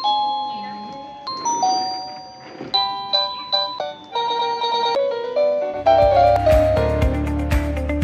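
A wireless outdoor doorbell plays a series of loud, bright chime melodies, one tune after another, ending with a deeper ringing tone layered under a busier jingle.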